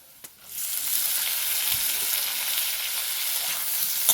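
Boiled potatoes hitting a pan of hot oil with fried onion, ginger, garlic and green chili, giving a steady close sizzle that swells after a soft clunk and carries on evenly without talk.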